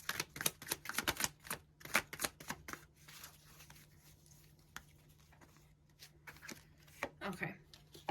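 Tarot cards being shuffled and drawn, quick close riffling and flicking bursts with soft taps and pauses, fairly quiet, with a steady faint hum underneath.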